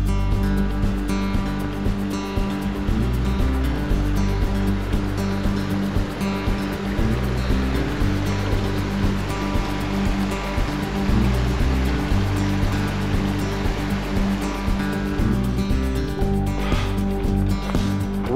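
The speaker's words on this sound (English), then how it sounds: "I'm getting pretty close to dropping in on the Roaring River." Roaring River in Rocky Mountain National Park rushes steadily in a loud, continuous roar of whitewater, dense and unbroken throughout, heard close with no talk over it.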